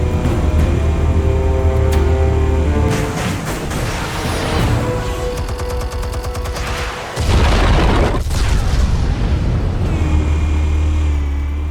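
Explosives detonating in Batman: The Telltale Series: loud booming blasts and rumbling debris over a droning low score, with a sharp break near the middle before the heavy roar returns.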